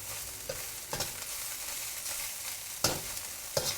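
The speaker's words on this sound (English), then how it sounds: "back in goes the rice. Just want to mix all this through." Rice is stir-fried in a hot wok for Chinese special fried rice, a constant close sizzle punctuated by a few sharp scraping tosses of the spatula, with no talking.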